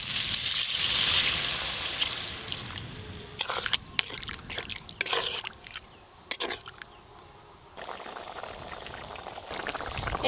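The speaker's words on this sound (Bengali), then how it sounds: "মশলার সঙ্গে আলু দিয়ে খুব ভালো করে কষানো হয়ে গেছে, এবার জল দিয়ে দেবো।" Water is poured into spiced potato curry masala in a cooking pot, giving a bright splashing gush that settles into bubbling and sizzling with intermittent spattering pops.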